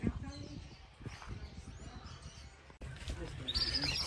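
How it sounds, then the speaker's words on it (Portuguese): Birds chirping in a forest, faint scattered tweets in the background beneath people talking. "O legal aqui é os passarinhos"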